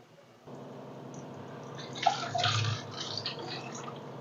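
Water is poured into a pan of simmering chana masala curry, giving a splashing, trickling pour that swells partway through and then settles. A quiet, steady background hum continues under it.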